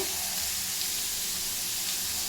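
Onions sizzle steadily in hot oil in a pan, a close, continuous frying hiss with no talking.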